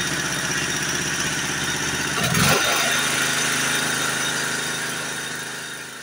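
Stiga Alpina lawn tractor engine idling steadily and close, with a brief rise in revs partway through before settling back to an even idle.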